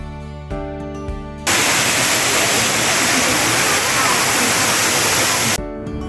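Montel waterfall at the foot of Mount Muria in Kudus, Central Java, roars as a loud, dense, constant rush of falling water for about four seconds, preceded and followed by music.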